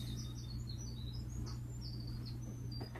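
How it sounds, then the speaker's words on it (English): Birds chirp and tweet outdoors in short, bright scattered calls, faint over a steady low hum. "I heard the birds."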